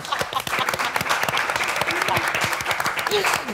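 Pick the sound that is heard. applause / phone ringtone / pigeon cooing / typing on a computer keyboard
applause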